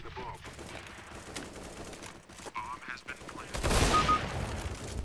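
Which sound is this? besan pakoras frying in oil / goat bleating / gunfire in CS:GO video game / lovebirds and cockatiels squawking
gunfire in CS:GO video game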